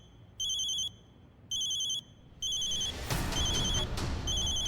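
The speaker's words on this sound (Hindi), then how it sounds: "मेरी माँ का फोन है।" A mobile phone rings in repeated electronic bursts, three evenly spaced tone pulses and then a fourth, clear and fairly close, with rustling and handling noise building up behind the later rings.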